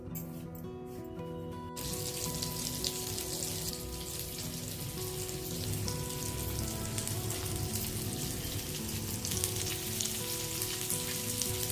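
Slices of elephant foot yam coated in semolina and masala fry steadily in a pan, producing a continuous close sizzle and crackle that starts after a brief quiet moment and holds evenly to the end.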